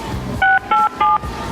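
Telephone being dialed, three crisp touch-tone beeps in an even rhythm, each short and loud, over a low background hum.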